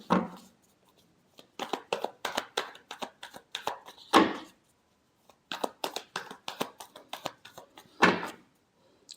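Tarot cards being shuffled close by: several bursts of rapid, papery riffling and slapping, each lasting a second or two, separated by short pauses of near silence.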